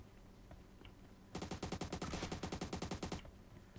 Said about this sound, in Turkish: Pompalı.